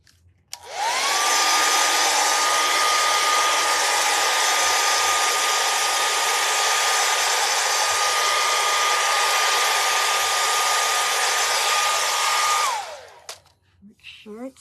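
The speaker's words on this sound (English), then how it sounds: "let's hit that with a blow dryer." A blow dryer runs continuously for about twelve seconds to dry stencil paint on a St Patrick's door hanger, a loud, steady whirring roar with a constant tone that starts and stops abruptly, with no talk over it.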